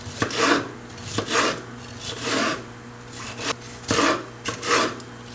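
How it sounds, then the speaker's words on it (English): Knife slicing bell peppers lengthwise on a cutting board for a chicken stir fry, giving a series of crisp, close cuts in irregular bursts with short pauses between strokes. "I'm going to start to slice up my peppers. And this is how I slice it, lengthwise like this."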